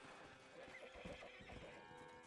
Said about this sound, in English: Let's try not to ride this horse off of a cliff.